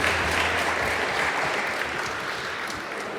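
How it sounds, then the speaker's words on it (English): Wedding guests clap together in a steady, dense round of applause that fills the room, holding loud and even throughout with no voices over it. "let's have one more big round of applause for Kevin and Mom celebrating their special dance"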